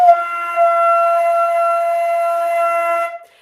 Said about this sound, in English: So you might be hearing a very airy tone, which kind of sounds like this.